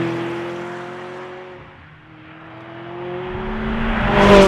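A McLaren 600LT Spider's engine hums at a steady pitch, dips briefly, then rises in tone and builds to a louder, harder exhaust note at the end, heard close with no talking.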